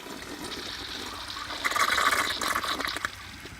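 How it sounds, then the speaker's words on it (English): An American Standard Allbrook toilet is flushed. After a quiet moment, rushing water swells into a loud, steady gush and siphoning roar, then eases slightly toward the end. No one speaks. "let me just turn it up a little bit more, and we'll give it another flush"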